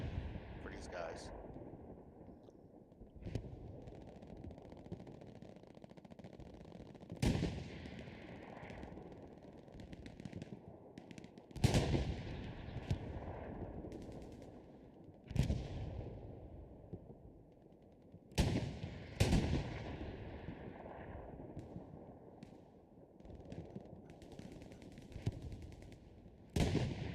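Machine gun fire from windows in the Hell Let Loose video game, repeated sharp bursts and single heavy shots echoing at intervals, some loud and close, others more distant, with a voice talking underneath.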